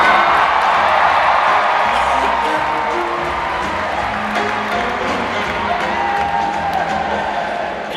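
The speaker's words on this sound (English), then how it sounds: "Round of applause" An audience at a Disney Legends award ceremony claps and cheers for several seconds, with dense, steady applause, scattered whoops and crowd noise running throughout.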